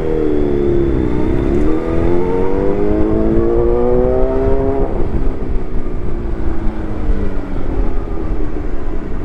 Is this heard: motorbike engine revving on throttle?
yes